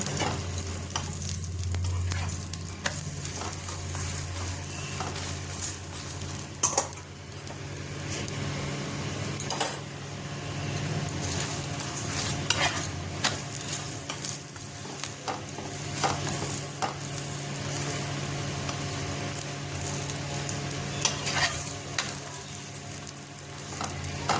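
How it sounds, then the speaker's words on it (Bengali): A paneer paratha shallow-frying in oil in a pan, giving a soft, steady crackling sizzle with occasional louder pops and spatula scrapes, fairly quiet overall. "তো এখানে পরোটাটা তেল দিয়ে ইপিট উপিট ভালো করে লাল করে ভেজে নেব।"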